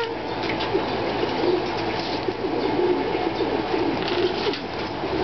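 Pigeons in a loft coo steadily, their low murmuring calls overlapping continuously at close range with no pauses.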